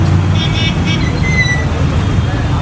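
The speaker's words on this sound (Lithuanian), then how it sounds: "Kai atvažiuoja Indijoje autobusai." Street traffic in India as a bus pulls in, a constant roadway rumble with engine drone and short bright horn toots and squeals above it, loud and close.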